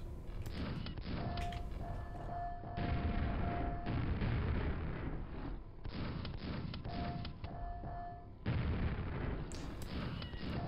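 Repeated shotgun blasts in the classic shooter Quake, spaced booming shots with reverberant tails over continuous game ambience, fairly faint overall.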